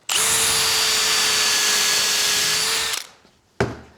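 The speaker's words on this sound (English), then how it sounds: "Always drill and countersink it if you can." A power drill whines steadily at close range for about three seconds while drilling into wood, then stops, followed by a brief second burst of drilling.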